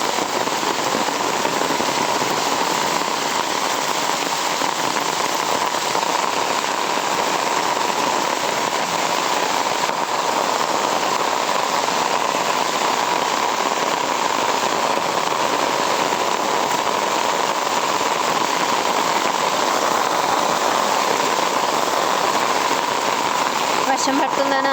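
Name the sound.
heavy rain falling at a Bali temple entrance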